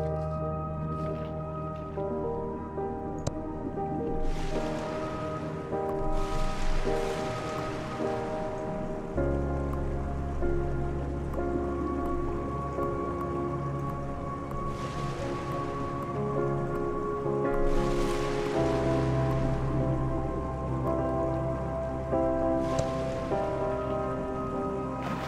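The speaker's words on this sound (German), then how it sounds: "Wasserfall." A waterfall in the video game Old Man's Journey rushes steadily throughout, a continuous splashing wash of water heard alone under a soft, sustained musical backdrop.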